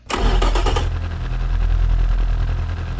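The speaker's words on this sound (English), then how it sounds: "So let's fire it up and see how this engine will sound." A simulated Toyota 2T-G twin-cam four-cylinder from the Automation car-building game cranks and catches, then settles into a loud, steady idle with a deep low rumble, heard alone without voices.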